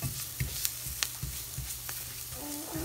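Vegetables, garlic and flour cooking in a pan for tuna noodle pasta, giving a steady soft sizzle with intermittent scrapes and clicks of stirring, close and fairly quiet.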